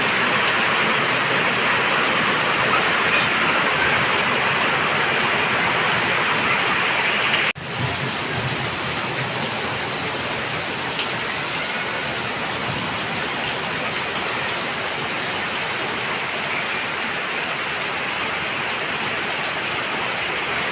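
Steady, loud broadband rushing of floodwater around a house fills the whole stretch, a dense continuous roar with a brief knock partway through.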